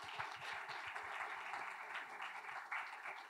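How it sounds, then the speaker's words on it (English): Soft, fairly distant audience applause fills the room at a Religion News Service 90th-anniversary gathering, a steady wash of many hands clapping to honor the organization's late founders. "Let's give their memory a round of applause."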